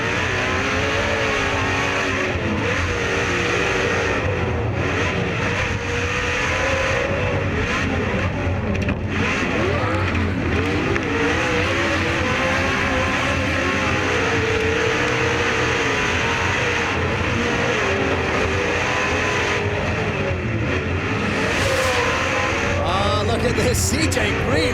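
Loud, continuous roar of TORC Pro 2 off-road race truck engines with MagnaFlow exhausts revving and straining at Primm, with a commentator's voice talking over the din throughout.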